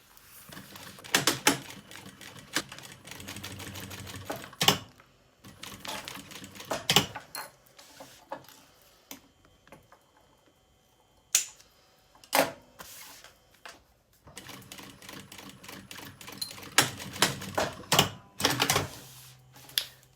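Sewing machine stitching piping onto a children's lunch bag, bursts of rapid mechanical clatter separated by quiet pauses, close and fairly faint.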